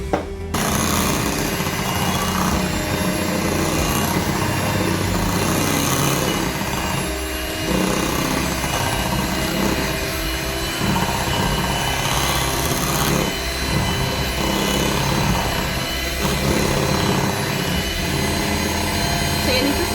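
An electric mixer beats cheesecake mixture in a bowl with a loud, continuous motor whine and rattle that runs close up for the whole stretch, with brief dips in intensity.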